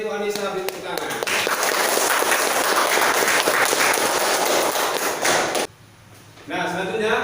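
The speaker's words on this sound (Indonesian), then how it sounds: "Beri tepuk tangan." A classroom audience claps for a student, a dense, steady burst of applause lasting several seconds, then a brief lull before a shorter second round of clapping.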